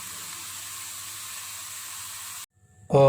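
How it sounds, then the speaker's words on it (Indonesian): Tempeh frying in vegetable oil until crispy, a steady close sizzle and hiss that cuts out abruptly near the end before a brief louder clatter. "ini untuk tempenya kita goreng garing ya"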